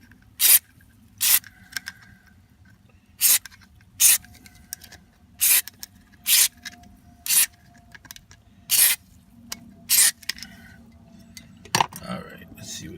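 Short bursts of spray cleaner hit the clock spring from a 2002 Toyota Sequoia steering column, about ten sharp hissing squirts at irregular intervals under a quiet background, with faint handling noise toward the end.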